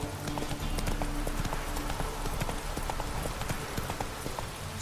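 Horse galloping in The Witcher 3 video game, a steady rapid clip-clop of hooves running continuously throughout over a low game soundscape.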